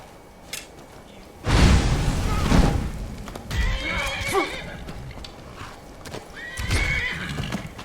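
In the Skyrim video game a horse neighs loudly and its hooves thud and clop, with heavy impacts and a further whinny following, all close up.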